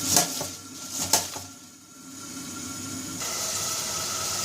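Chopped onion sautéing in a pan. Two sharp knocks come first, then a steady soft sizzling hiss builds and holds, close and fairly quiet, with no voices.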